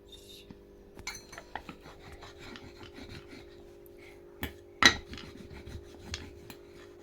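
Ginger, garlic and chillies ground into a spice paste on a grinding stone, with soft rasping, rubbing strokes and occasional knocks, faint and close over low background hum.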